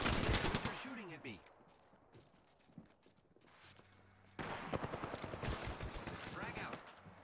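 Apex Legends video game gunfire comes in rapid automatic bursts at the start and again in the second half, with a quieter stretch between and a player talking over the action.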